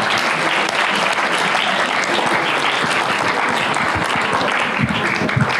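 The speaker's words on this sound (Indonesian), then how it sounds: "Oke, beri tepuk tangan kepada mereka." Audience applause at an open Quran memorization exam for ninth-grade boys, steady and full from start to end, many hands clapping together with faint crowd murmur.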